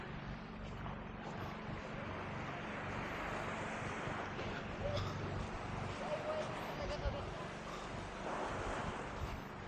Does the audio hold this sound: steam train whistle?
no